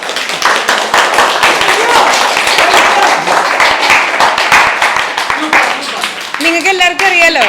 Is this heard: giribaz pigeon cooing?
no